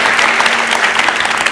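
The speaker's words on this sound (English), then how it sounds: "Give yourselves a round of applause." A talk-show audience claps steadily, a dense, even burst of applause filling the room without speech.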